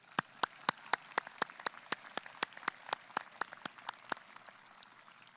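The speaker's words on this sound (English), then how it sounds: "Let's give them a round of applause, please." Scattered, sparse hand claps ring out in an irregular patter at a high school graduation ceremony, a small group applauding at moderate volume with no voices.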